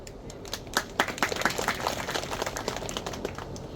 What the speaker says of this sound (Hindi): ये जो तालियां बज रही है ना